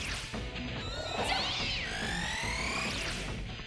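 Nekomata cat demons meow in Shin Megami Tensei Nocturne, a few drawn-out, pitch-sliding cries over busy game music and battle hits, fairly loud and with no voices over them.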